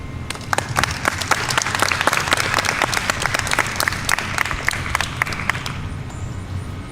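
An audience at a college poetry reading breaks into a round of applause, steady, crisp clapping that fades out near the end.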